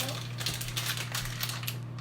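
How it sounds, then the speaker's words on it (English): Soft crinkling and rustling of a packet being handled and emptied during a Mexican cooking class, faint and close, over a steady low background hum. "I'm going to empty this entire packet"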